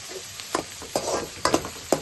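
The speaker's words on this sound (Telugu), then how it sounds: "ఉల్లిపాయలు వేగిన తర్వాత మనం కట్ చేసి పెట్టుకున్న క్యాప్సికమ్ ముక్కలు వేసుకుందాం." Capsicum pieces fry in a pan with onions for pav bhaji, giving a soft sizzle broken by several sharp scraping and clattering stirs at irregular intervals, close and fairly loud, with no talking.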